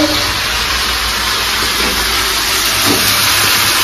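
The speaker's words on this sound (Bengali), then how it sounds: "এখন আলু দেবো এর মধ্যে।" Potatoes go into a pan of meat curry, raising a loud, continuous sizzling hiss that holds steady throughout with faint stirring clatter underneath.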